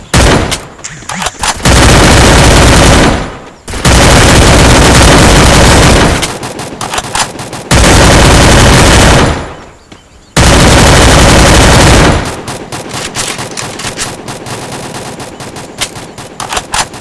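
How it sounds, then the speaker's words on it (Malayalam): Rapid automatic gunfire in the Free Fire battle royale game comes in long, very loud sustained bursts separated by brief pauses, ending in lighter sporadic shots. "ബാക്കിന്നാണ് അടി വരുന്നത്."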